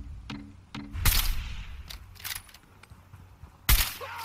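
Gunfire in the video game Fallout 4, several sharp, fairly quiet shots scattered across a few seconds, with one louder report toward the end and no talk.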